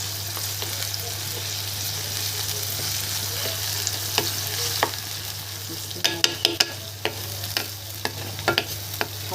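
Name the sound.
onions frying and being stirred in a pan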